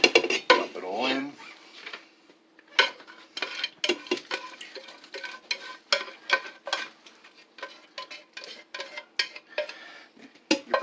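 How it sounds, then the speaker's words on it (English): A spoon mixes hot vegetable lo mein in the pot it was cooked in, giving close metallic scrapes and clinks against the pot in an irregular rhythm, with a faint sizzle underneath and a brief bit of noise near the start. "You take your spoon, mix it well."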